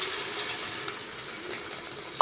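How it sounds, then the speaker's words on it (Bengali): Water is poured into a pan of fish cooking for a cumin-paste fish curry, giving a steady, soft sizzling hiss that ends with a sudden short clatter. "জল দিয়ে দেবো।"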